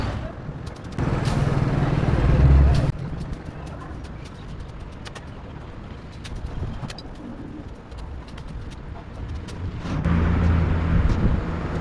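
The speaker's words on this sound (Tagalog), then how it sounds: "Ingat po tayo kasi medyo maraming nadating na sasakyan." Many vehicles pass on a roadside, with rumbling surges swelling and fading near and far while pigeons coo in the background.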